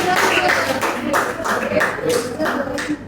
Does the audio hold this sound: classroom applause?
yes